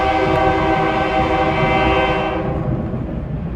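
A steam locomotive built in 1905 sounds a loud, sustained multi-tone horn at a railroad museum over the rumble of the running train, with the horn cutting off near the end while the rolling noise continues.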